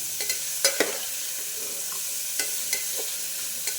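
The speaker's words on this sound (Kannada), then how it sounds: "ಎಲ್ಲ ಚೆನ್ನಾಗಿ ಫ್ರೈ ಆಗಬೇಕು" Vegetables and green chillies fry in a pan for paneer pulao, a continuous close sizzle broken by several sharp scrapes and clinks as they are stirred at irregular intervals.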